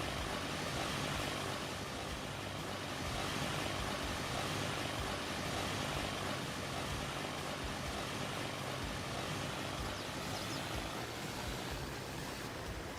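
Plane engine in Farming Simulator 22, a continuous, even roar that holds steady from start to finish with no voices over it.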